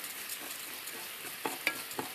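Rice toasting in a hot pan while being stirred, a soft steady sizzle with a few light scraping clicks of the utensil near the end, faint and close with no talk.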